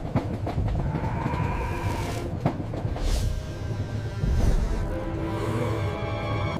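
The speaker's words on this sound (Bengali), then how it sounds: "হঠাৎ ট্রেনটা ছাড়ল।" An animated ghost train pulls away from a station, with a dense rolling rumble and rattle of the carriages, metallic squeals and sharp clanks running throughout.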